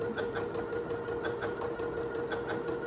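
A Janome Memory Craft MC9450 computerized sewing machine sews a blind hem along a fabric fold, humming steadily with a regular pulsing stitch rhythm, near and continuous without talk.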